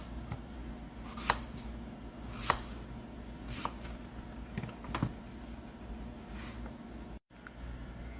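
A knife slices through peeled apples on a board in a quiet kitchen, producing a handful of faint, crisp cuts spaced about a second apart against a low background hum.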